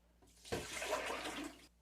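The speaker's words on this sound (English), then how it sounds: "this water, which is really dirty now. So I'm going to dump that out" Dirty dishwashing water is dumped out in one quick pour, a sudden gushing splash lasting about a second before cutting off, alone and fairly close.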